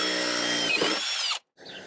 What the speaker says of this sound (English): drill out this hole and install my riv nut